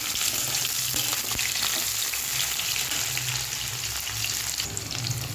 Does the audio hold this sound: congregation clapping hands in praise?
no